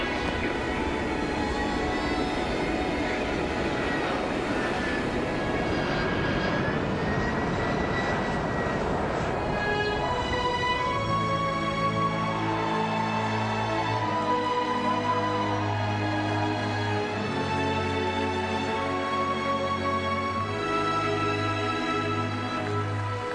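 Boeing 787 jet engines after the airliner's first flight, a loud, steady roar through the first half that then gives way to sustained, steadier tones.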